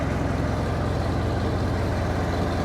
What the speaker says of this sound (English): We got the tractor running.